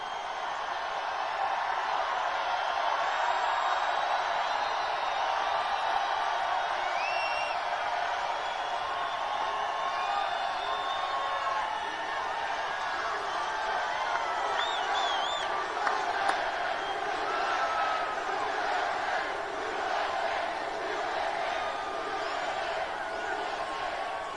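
A political rally crowd cheers and roars continuously, a huge, steady wall of voices with scattered whoops and shouts rising above it, loud and sustained for the full stretch.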